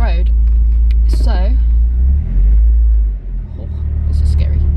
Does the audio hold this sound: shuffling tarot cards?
no